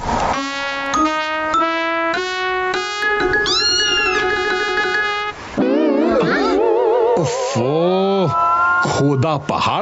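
A cartoon cat meows repeatedly, several close, loud, drawn-out wavering cries in sequence, with animated voices and music mixed in later.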